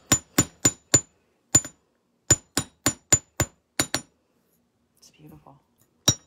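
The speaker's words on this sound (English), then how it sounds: "I'm gonna hammer it." A small hammer strikes a wire hook for a bead ornament in a quick series of about a dozen sharp, bright metallic taps in uneven clusters, followed by brief soft talk and one last tap.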